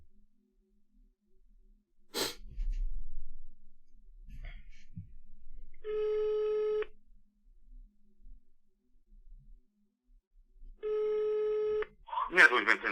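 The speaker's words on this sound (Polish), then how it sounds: "zadzwonię jeszcze raz do niego" A telephone call's ringback tone sounds twice, each steady buzz lasting about a second and spaced roughly five seconds apart, with faint rustling and breathing nearby in between.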